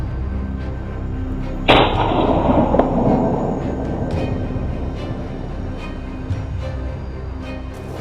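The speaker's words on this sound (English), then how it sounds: "The sound of gunfire echoed throughout the forest" A single gunshot during a wild boar hunt in a forest, a sharp crack followed by a long rolling echo that fades over several seconds against quiet outdoor ambience.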